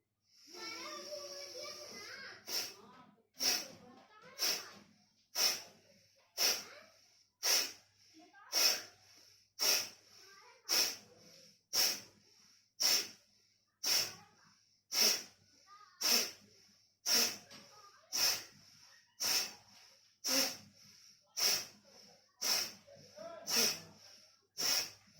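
Forceful Kapalbhati exhalations through the left nostril, about twenty sharp nasal puffs in a steady, even rhythm, roughly one per second, close and distinct after a few spoken words at the start.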